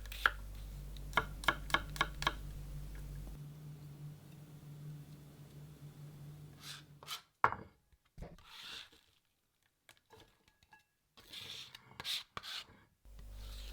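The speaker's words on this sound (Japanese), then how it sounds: "玉ねぎのうまみ甘みがよく出るように繊維を断ち切るようにエマンセしていきます" A knife thinly slicing onion against the grain on a cutting board, émincer style: a run of crisp, evenly spaced cuts close up, then a steady low hum and scattered scraping and clattering.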